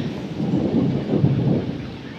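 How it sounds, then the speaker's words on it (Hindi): Steady, dense roar of heavy rain pouring down, continuous and fairly loud throughout with no voices. "बहुत भयानक बारिश आ रहा है अभी।"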